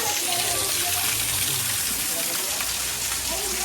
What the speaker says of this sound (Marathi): वॉटरफॉल आहे इथे.